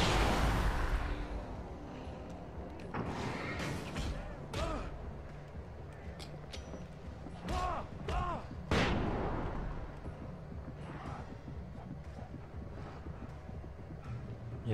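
Flashbang bursts and gunfire in the video game Alan Wake: a loud opening blast followed by scattered sharp bangs and crackles over a rumbling, windy background.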